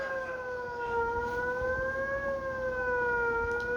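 A wailing siren rises and falls steadily in pitch, fairly distant and continuous over a low background rumble.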